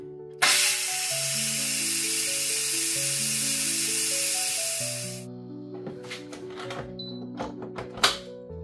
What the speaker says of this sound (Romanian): acum o să depresurizăm oala